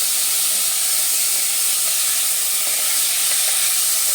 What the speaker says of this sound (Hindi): और चिकन को अच्छे से भून लेंगे